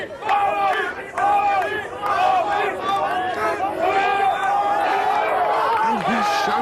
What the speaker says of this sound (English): The crowd is shouting Ab on.